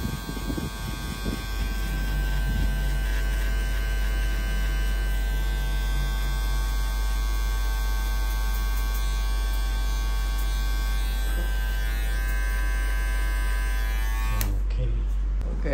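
Electric hair clipper buzzes steadily during a French crop haircut, a close constant hum with a strong low mains-like drone, faint talk at the start, cutting off abruptly near the end.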